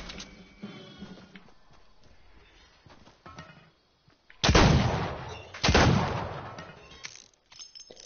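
Video game gunfire: two loud, sustained bursts of shots close together in the middle, with quieter game sounds before and after.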